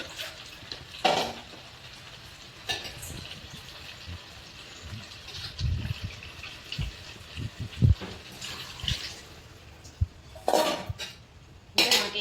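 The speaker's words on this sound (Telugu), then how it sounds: "తగినన్ని వాటర్ పోసుకోవాలండి" Water poured into a pan of Nellore-style fish curry with tamarind pulp, heard as a few short splashing bursts amid faint clinks of pots and utensils, with no talk.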